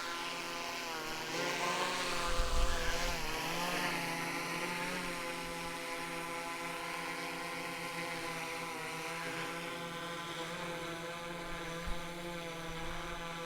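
Drone flying in sport mode with obstacle avoidance switched off gives a steady, continuous propeller whine and buzz, held at an even level throughout with no talking.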